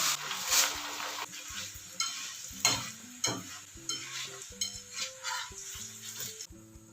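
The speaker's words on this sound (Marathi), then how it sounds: "अर्धा किलो मक्याचे पोहे घेतलेले ते चांगले तळून घेऊयात" Half a kilo of maize poha frying in hot oil, with a steady sizzle under repeated stirring scrapes and clinks of a utensil against the pan.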